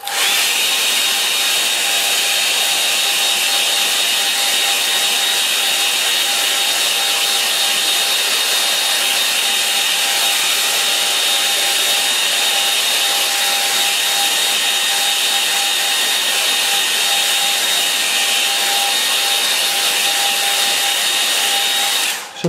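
A hair dryer blows on a watercolour painting of old Somerset barns, giving a loud, steady whooshing hiss with a constant motor whine that runs unbroken throughout.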